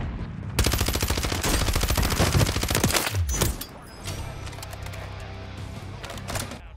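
Rapid, dense bursts of gunfire rattle for about three seconds in an online shooter game, followed by scattered quieter shots and game noise.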